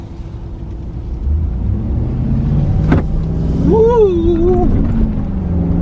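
A 2019 RAM 2500 Tradesman pickup with a 6.4L HEMI V8 and 8-speed transmission accelerates hard, its engine drone swelling and climbing through a gear change from inside the cab, with a driver's brief excited shout.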